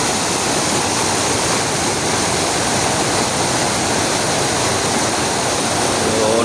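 Loud, constant rushing water, a thick roar of a strong, fast mountain river running without pause from start to finish.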